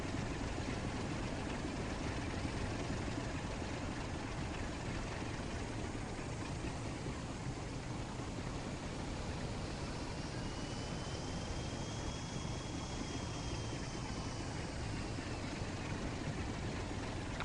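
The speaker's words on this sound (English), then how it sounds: "I do love the sound of the engine in this train." A steady, droning train engine in the video game Train Sim World rumbles continuously at a low pitch, with a faint rising whine drifting in partway through; no voices.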